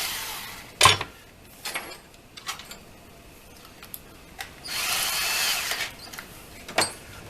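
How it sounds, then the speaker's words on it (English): A power drill bores a hole into the corner of a wooden board while building a swarm trap, with a dull bit. The motor comes in short bursts of whine, one near the start, then a longer run, and a final quick burst. "drill a hole in the corner"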